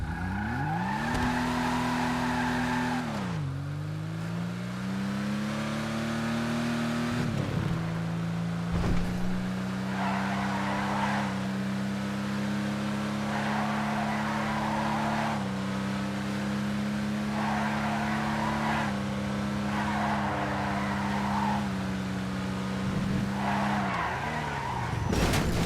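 In a video game, a Nebula Turbo car drives with a steady, droning engine whose pitch climbs and falls as it shifts. Repeated bursts of tire squeal break through as it skids around corners, loud and close, with no talking.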